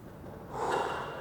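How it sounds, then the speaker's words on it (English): A single slow breath during a push workout stretch, drawn in through the nose and let out through the mouth, soft and close with a gentle rise and fall, no talking. "In through your nose and out through your mouth."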